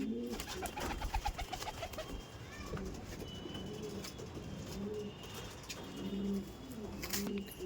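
Andhra pigeons coo in a loft, soft repeated throaty calls rising and falling at close range over a steady background hum, with several birds overlapping and no voices.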